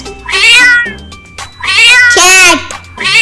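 A cat meows three times, loud and close, each call a drawn-out rising and falling cry with short pauses between them.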